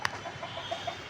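Domestic hens on a home farm clucking in short soft calls, a few brief clucks scattered across a second, close by with no talk.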